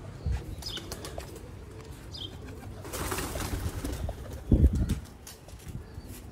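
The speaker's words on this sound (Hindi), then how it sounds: "सियालकोटी कबूतरां दे विचों" Sialkoti pigeons coo softly in a low, rolling murmur, with bursts of wing flapping and a loud flutter near the end.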